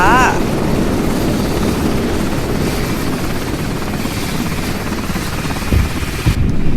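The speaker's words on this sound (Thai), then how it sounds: "เฮลิคอปเตอร์ใครเป็นคนขับวะน่า" A helicopter flies in a Roblox horror video game, its rotor drone steady and loud throughout, with a brief game sound and a thud near the end.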